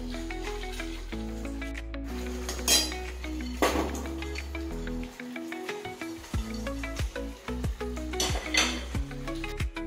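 Fried paneer pieces get stirred in a pan for restaurant-style chilli paneer, bringing repeated metallic clinks and scrapes of a spoon against the pan, close and fairly loud, set over a steady low background tone.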